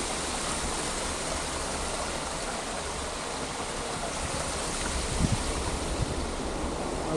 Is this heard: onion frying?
no